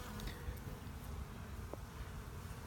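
Low, steady buzzing of a male drone honeybee close by, a continuous drone with slight flutter, over a quiet background.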